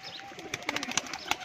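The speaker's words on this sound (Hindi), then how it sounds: "ए लो आए कबूतर" Pigeons arrive for grain at a feeding spot, a soft flutter of wings and brief cooing with a few sharp chirps and clicks, close and faint.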